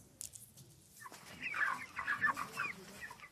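Chickens on a farm in Hwedza, Zimbabwe, clucking busily and close by, a flock of overlapping calls that builds after a brief lull.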